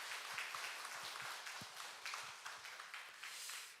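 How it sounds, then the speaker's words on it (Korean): A church congregation claps for the children at a Sunday service, a steady wash of many hands applauding at moderate volume with a few nearer individual claps standing out. "우리 어린이들에게 축복의 박수 우리 한번 보내주십시다."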